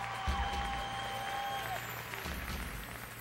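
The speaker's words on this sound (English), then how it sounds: "So let's give them all a round of applause," Faint audience applause and crowd noise at the Miss World 2009 pageant for the contestants, a soft clapping wash mixed with a presenter's amplified voice and low hall rumble.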